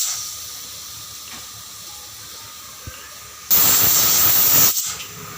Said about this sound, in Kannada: ಎರಡು ಕೂಗಿಸ್ಕೋಬೇಕು